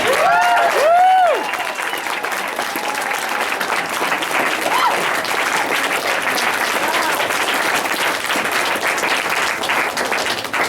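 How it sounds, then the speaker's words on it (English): Loud whistles cut over a poetry slam audience's burst of clapping, which then settles into a thick, even round of applause that carries on steadily and close. "Let's have them all stand up and give one more round of applause."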